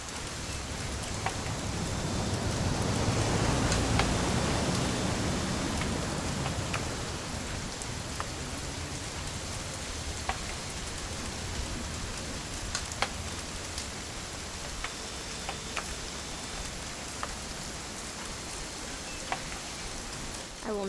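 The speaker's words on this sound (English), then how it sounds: "It's gonna rain the whole weekend, isn't it?" Steady rain pours down in the game What Remains of Edith Finch, a dense, even hiss of drops that swells in the first few seconds and then holds, with scattered sharper drips ticking on nearby surfaces.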